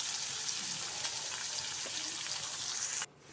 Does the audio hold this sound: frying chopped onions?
yes